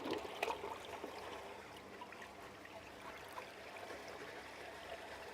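Water flows through a laboratory hydraulic flume channel toward a culvert entrance fitted with wing walls, giving a faint, steady trickling and rushing sound with a few small splashes near the start.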